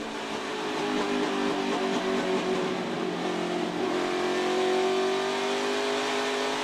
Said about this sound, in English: You can hear Haley just working that throttle